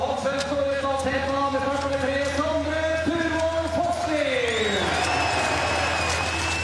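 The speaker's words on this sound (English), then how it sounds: "Fosley getting a really big cheer." A ski sprint crowd cheers loudly for sprinter Fosley, whoops and sustained roaring rising and falling under a commentator's voice.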